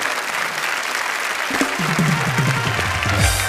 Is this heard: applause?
yes